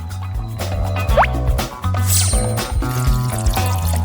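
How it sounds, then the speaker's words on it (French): Water and green food colouring are poured into icing in a kitchen, with short close pouring and dripping sounds and a quick rising splash over a background of music. "Et maintenant, je vais tout mettre ici. Voilà le glaçage. De l'eau. Et le colorant vert."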